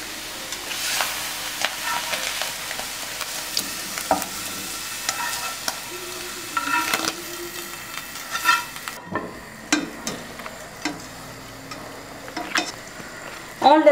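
Mushrooms simmer with olives in a chicken tajine sauce, a soft continuous bubbling sizzle with occasional utensil taps and clinks, steady and close over fourteen seconds.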